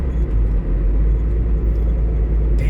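A Ford Transit van with a misfire, driven in second gear, producing a loud, steady low engine rumble and road drone heard from inside the cab, with no talk.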